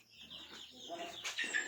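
Chickens clucking close by, soft, low murmuring calls that build into a louder chirping cluck at the end, heard alone.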